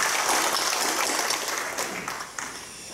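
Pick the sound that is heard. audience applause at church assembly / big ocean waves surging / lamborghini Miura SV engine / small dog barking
audience applause at church assembly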